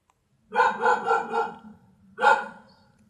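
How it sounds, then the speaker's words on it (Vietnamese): A dog barks close by in a quick run of four sharp barks, a short pause, then one more, loud and clear with nothing else around it. "con chó sủa"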